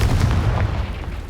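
In Hogwarts Legacy, a Confringo fire spell bursts with a loud, deep, booming blast that rumbles for about a second before fading, with no talking.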